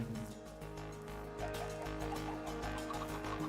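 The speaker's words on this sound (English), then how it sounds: "I still hear the chickens" Chickens in a pen in Minecraft, a video game, giving soft clucks over a steady low background hum, faint and distant.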